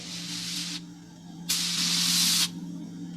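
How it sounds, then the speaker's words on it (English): Two loud bursts of hissing steam vent through a spaceship's steering tubes in a radio drama, each lasting about a second and separated by a short quieter gap over a steady low hum. "We could hear the desperate bursts of steam through the steering tubes as the Starfire maneuvered to dodge the enemy attacks."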